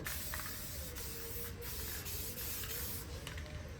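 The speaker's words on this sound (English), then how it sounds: "So we sprayed these super thick." A spray can or gun lays thick coats of paint onto Volkswagen Beetle vent glass parts, giving a steady, close, unbroken hiss that runs the whole time with only slight dips and no talk.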